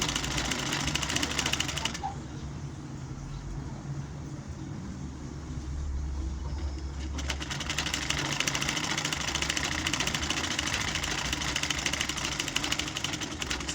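A sewing machine stitches fabric for a butterfly dress, running in a steady mechanical drone with a faint regular rhythm; the sound stays level and close throughout, with no voices.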